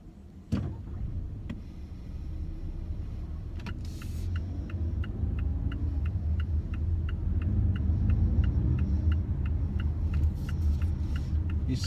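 Low engine rumble of a Mazda CX-5 2.5-litre petrol building as it accelerates through first and second gear in city traffic, heard from inside the cabin, with a steady ticking like an indicator running over it.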